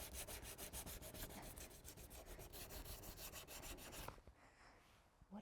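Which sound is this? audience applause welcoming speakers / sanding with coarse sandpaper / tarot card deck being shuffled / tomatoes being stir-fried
sanding with coarse sandpaper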